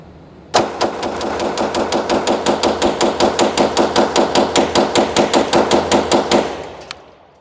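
A fresh-built Glock G17 pistol with an 80pbuilder slide fires a fast, steady string of about thirty loud, close gunshots over six seconds, then falls quiet apart from one last faint click.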